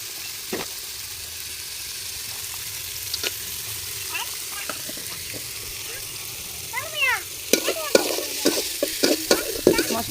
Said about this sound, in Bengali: এখন সুন্দর করে মশলাগুলো কষাই নিই